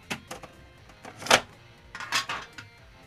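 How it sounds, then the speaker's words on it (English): Metal tins clatter and scrape in a few irregular bursts close by, with sharp clanks between quieter rustling. "Tins just make a lot of noise."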